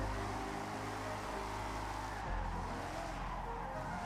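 Car engine revving and tires skidding while drifting in the Forza Horizon racing game, a sustained engine drone with shifting pitch and a rising squeal of sliding tires, steady and moderately loud without speech.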